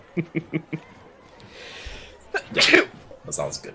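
A single sharp sneeze bursts out at a tabletop Dungeons & Dragons session, close and loud, with people talking and chuckling just before and after it.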